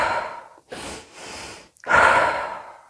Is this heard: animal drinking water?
no